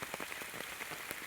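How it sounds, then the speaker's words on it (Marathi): First rain of May falling in a mango orchard: a steady, close hiss of rain with scattered individual drops tapping throughout, and no voices. "आमच्या आज पाऊस पडतो मे महिन्यात 7 तारखेलाच."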